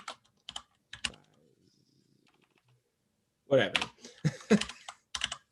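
Keys clatter on a computer keyboard in scattered short bursts of typing with pauses between, close and fairly faint, while a person speaks briefly.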